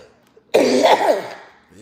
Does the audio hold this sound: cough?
yes